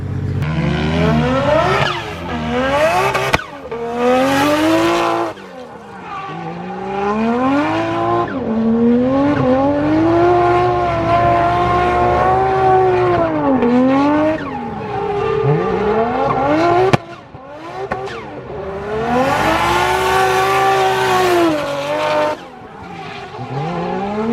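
A 1JZ-powered drift car revving hard through repeated rises and falls in pitch, loud and close, with tire squeal and skidding mixed in as it drifts.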